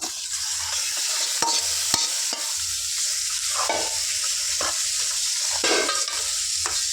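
Cleaned chicken pieces frying in oil in a village-style kitchen, a loud continuous sizzle broken by repeated scraping stirs of a spatula against the pan.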